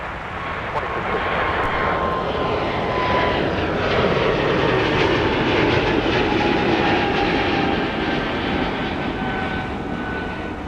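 Steady, loud roar of a Delta airliner taking off from runway 30 left at MSP on a winter day, a constant broadband rumble with a faint whine gliding downward.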